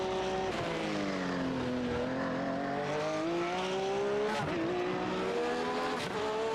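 Race cars in iRacing at WeatherTech Raceway Laguna Seca roar past the finish line, a steady engine drone whose pitch rises and dips as cars pass, loud and continuous with no talk.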